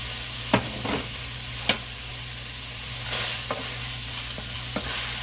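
Ground beef with taco seasoning sizzling steadily in a pan, with a constant frying hiss and several sharp scraping clicks as a utensil stirs the meat against the pan.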